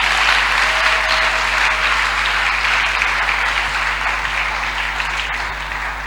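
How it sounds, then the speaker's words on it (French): A church congregation applauds during a French-language service, a dense, sustained wash of clapping that fades slightly toward the end. "Alors toi, tu peux acclamer pour lui."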